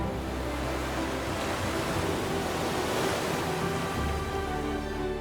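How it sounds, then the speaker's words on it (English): Storm waves crash on the Black Sea in a dense, continuous roar of surf and wind, loud and steady with no voices. "Massive waves rise high enough to erase all visibility."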